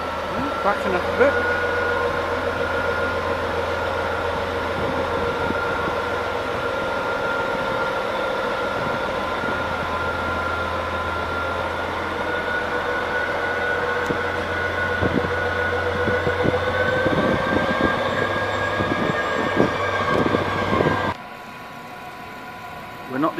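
Diesel shunter locomotive backing up at Hamburg Hauptbahnhof gives a steady, close engine drone with a low throb and occasional knocks, cutting off abruptly near the end.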